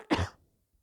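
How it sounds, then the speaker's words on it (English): A single sharp cough, close and fairly loud, with a short rough tail fading into quiet. "now I have to cough"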